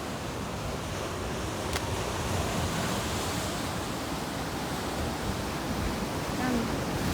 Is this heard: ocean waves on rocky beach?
yes